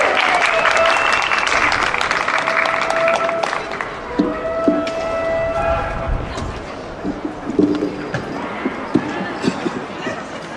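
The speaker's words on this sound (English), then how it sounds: "Please give him a round of applause" An audience applauds Navy SEAL veteran and author Brett Jones, with dense, loud clapping filling the first few seconds before it thins into scattered claps over background noise.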